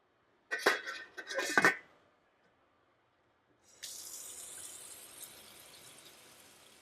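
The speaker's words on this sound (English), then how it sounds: "we're actually going to drain the water" Water is poured off cooked ramen noodles into a sink, with a few clattering pot knocks and splashes first, then a steady, moderately loud rushing stream after a short pause.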